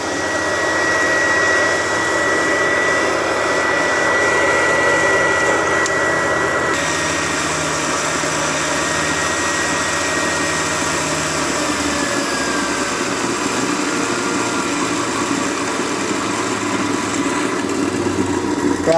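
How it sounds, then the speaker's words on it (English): A Black and Decker valve seat grinder motor runs steadily with a loud, constant whine and hum that shifts slightly as it slows partway through, with no talking. "Don't know why the motor started slowing down there."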